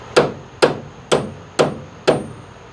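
A hammer drives a cut-out piece of steel back into a tubular A-arm in five sharp, evenly spaced metallic blows, each ringing briefly, close and loud with no talk.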